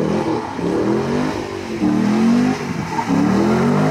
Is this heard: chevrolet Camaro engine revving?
yes